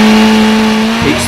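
Race car engine held at steady high revs during a trackside noise test, a loud close sustained drone with a strong steady tone and a slight shift near the end.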